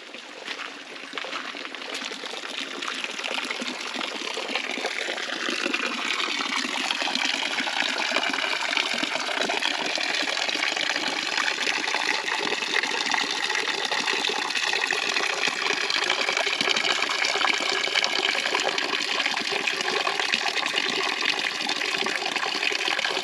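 Water being collected from a hot spring for coffee at a campsite, a steady near gurgling pour with a rising filling tone that runs continuously and evenly, no voices over it.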